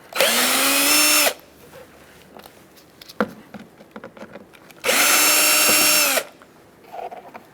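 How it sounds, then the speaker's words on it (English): A power drill backs out screws from the front license plate bracket of a 2013–2022 Buick Encore: two loud, sustained whirring bursts of about a second each, with light clatter and handling noises in between. "We're going to remove these 4 screws."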